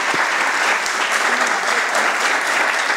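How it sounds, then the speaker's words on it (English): Sustained audience applause at an evening literary event with author Saeed Jones at Karamu House, Cleveland, a dense, steady wash of many clapping hands filling the room without letup. "keep that applause going"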